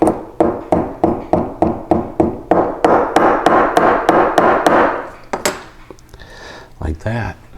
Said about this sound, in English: I'm just going to hammer this down.